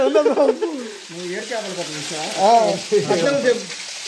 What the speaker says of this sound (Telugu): నీళ్ళు సౌండ్ అప్పుడప్పుడు పెరుగుతున్నాయి